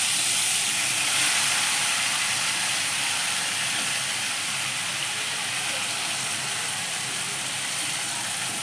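Marinated koi fish pieces set one by one into hot oil in a wok, giving a steady, close, broadband sizzle and hiss that carries on evenly throughout with no talking.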